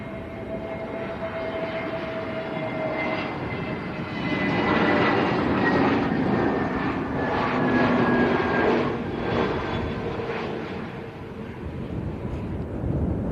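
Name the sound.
airliner landing at Lanzarote Arrecife airport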